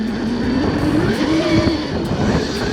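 Electric KTM motocross bike on a light, barely opened throttle, giving a close, rising and falling motor whine over gritty rolling noise.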